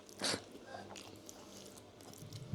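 Someone takes a single crisp bite of a Nepali Thakali meal of thick masoor dal and rice with fried egg and green chili; a short crunchy burst stands out early, followed by quiet, soft room noise.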